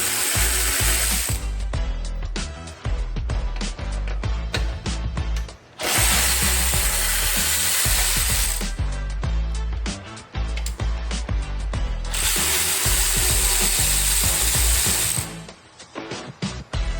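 Power ratchet or impact driver bursts removing the last screws from an engine part on a 2015 Lamborghini Huracan V10 during an engine swap, three loud whirring bursts separated by dense close clicking and ratcheting.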